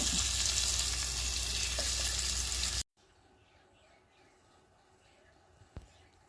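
Sardines for pickle sizzling in a pan, having been turned to cook the other side; a loud, steady sizzle for about three seconds, then cutting off to quiet background with a faint clink.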